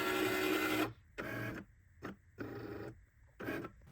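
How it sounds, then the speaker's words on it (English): A Cricut cutting machine carves magnetic bookmarks, its carriage motor whirring in short bursts separated by pauses, with an electronic whine in the opening second, close and fairly quiet. "Now we can watch how Cricut cuts our bookmarks."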